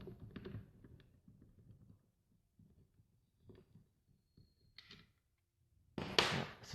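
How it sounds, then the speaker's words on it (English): An Allen key unscrews a holster mount, giving soft, close clicks and light metallic taps spread across a few seconds, ending in a louder scraping rattle as the part comes loose. "I'm going to just take an Allen key here, quickly"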